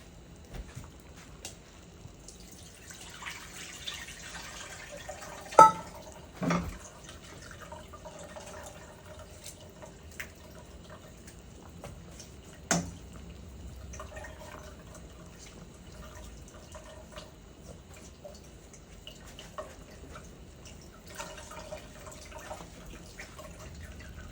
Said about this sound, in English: I get my strainer and I take it to the pot